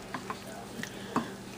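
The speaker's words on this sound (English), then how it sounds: "Now we kind of mix all that up." Garlic and hot paste stirred in a cooking pot, with a few soft scrapes and light clicks over a faint sizzle, close and fairly quiet.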